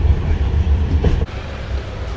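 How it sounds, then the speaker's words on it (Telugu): Janmabhoomi Express passenger train running near Guntur, India, heard from inside a carriage as a steady, loud low rumble of wheels on track, with a brief dip in the noise partway through. "ఎక్కిన రైలు పేరు జన్మభూమి ఎక్స్ప్రెస్ అంట"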